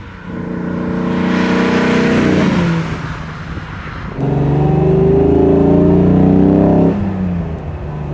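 A 1959 Mercedes 300 SL Roadster accelerates hard, its engine climbing in pitch through one gear, dropping briefly at the shift, then rising again through the next, loud and close with a rough, throaty tone.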